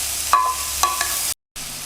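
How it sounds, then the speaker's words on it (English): Vegetables stir frying in a little oil in a pan, a steady close sizzle with a couple of scraping stirs, briefly cut to silence before resuming, no talk. "I'm going to stir fry in the same oil without adding too much."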